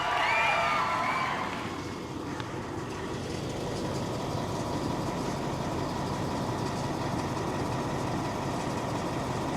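A 2020 Ford F-350 Super Duty diesel engine idles steadily after a fuel filter change, a broad continuous rumble that starts with a brief louder rise and then settles into an even drone with no talking.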